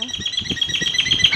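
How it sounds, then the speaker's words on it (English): A bird near a breakfast spot in Thailand gives a rapid run of chirps and high repeated calls, close and fairly loud, with some low murmuring beneath it. "Hello, bird."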